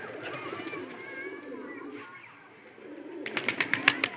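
Pigeons at a street pigeon market give soft low cooing and faint bird calls, then a burst of rapid wing flapping close by in the final second.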